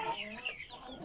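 A Brahma rooster clucks close by in a short burst of rough, clustered calls, loud and busy over about a second, with a voice faintly audible in the background.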